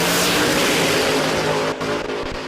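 A drag race car launching down the Willowbank strip at a radial tyre event, a loud sustained engine roar close by that holds steady before a brief dip near the end.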